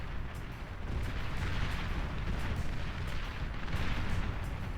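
Long-range artillery fire in the Beyond All Reason strategy game, a heavy rumbling barrage of booms rolling continuously at moderate level with no pause.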